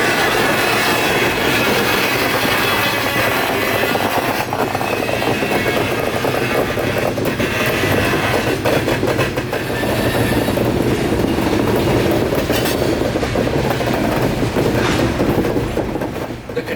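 A freight train on a spur track pulls an empty tank car, with a loud, steady rumble of rolling wagons, wheel clatter and some faint squeal, heard close and without talk.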